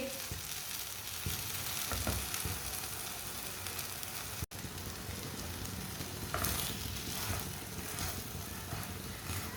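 A radish paratha fries in oil on a hot pan, giving a steady, dense sizzle that runs throughout at moderate level, with a brief dip midway and no talking.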